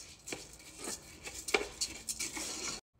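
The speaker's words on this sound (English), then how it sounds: "Mix everything up." Washed rice and chicken ingredients are stirred together in a Ninja Foodi cooking pot, producing close, irregular scraping and tapping of a utensil against the pot before falling silent.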